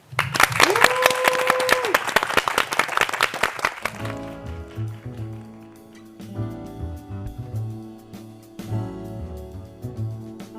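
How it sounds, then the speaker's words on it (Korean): An audience claps warmly for several seconds before a hymn is performed at a church gathering, then the applause fades as soft piano accompaniment begins. "박수로 청해 듣겠습니다."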